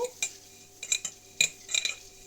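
Chopped dill, parsley and green onion stirred in a bowl, several quick light clinks and scrapes of a utensil against the dish in short irregular bursts, close and quiet.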